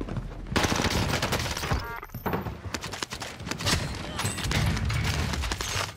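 CX9 submachine gun fire in Call of Duty Warzone on Rebirth Island: rapid, loud bursts of automatic shots with short pauses between volleys, continuing through most of the stretch.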